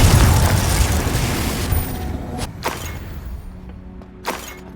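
Confringo explosion spell in Hogwarts Legacy: a heavy, rumbling blast that fades slowly, followed by a few sharper bursts and thuds as the fight goes on, loud and close with no talking.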